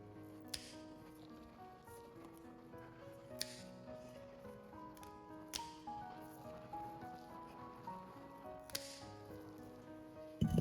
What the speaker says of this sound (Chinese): 首先把西蘭花切小朵